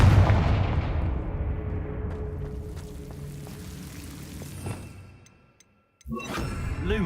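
A magical blasting spell explodes in a fantasy action game, a heavy booming burst with rumbling low end that fades over several seconds into near silence before another loud sound starts.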